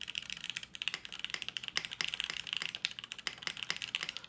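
Typing on a Wendy TKL mechanical keyboard with an aluminum plate, a steady rapid patter of crisp, close keystrokes with no talking.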